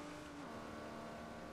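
Forza Motorsport 4 racing game car with a steady, sustained engine drone and tyre noise, held at a constant pitch throughout with no pauses, close and loud.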